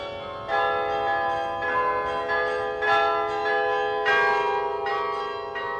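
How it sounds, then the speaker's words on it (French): Several carillon bells, fixed in place with clappers pulled inside, strike one after another in a slow sequence, each ringing out with a long, resonant decay and no voices. "mais on tire les battants à l'intérieur des cloches."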